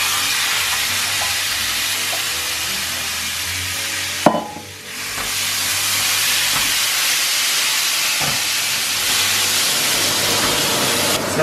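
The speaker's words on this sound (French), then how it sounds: "Une fois que la poêle est bien chaude, on met la viande à saisir." Marinated yakiniku beef sears in a hot frying pan with a loud, continuous hiss and sizzle, broken by a brief dip and a few sharp crackles, heard close up with no talk.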